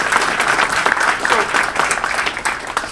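Applause from an audience at a university game-design talk, a dense, steady wash of many hands clapping with a few whoops, filling the whole moment without anyone speaking.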